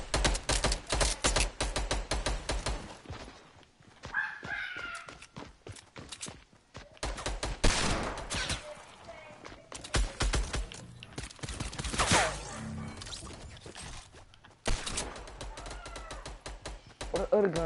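Rapid bursts of gunfire from a shooter video game crackle through most of the stretch, sharp repeated shots in clusters with brief gaps, loud and close, while players talk over the action.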